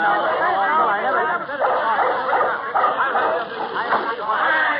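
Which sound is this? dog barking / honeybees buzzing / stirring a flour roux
dog barking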